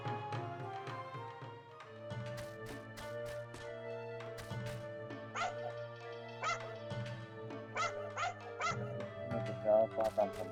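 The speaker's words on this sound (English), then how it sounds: "Make a dog bark on command." Dog barking in Onimusha 2: Samurai's Destiny, short yips and bow-wows popping repeatedly over a steady, loud game music bed with sustained tones.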